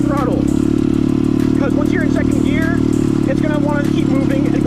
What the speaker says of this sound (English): Now I'm in second gear. Gonna be light on the gas.